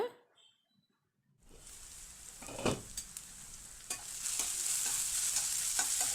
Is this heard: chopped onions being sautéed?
yes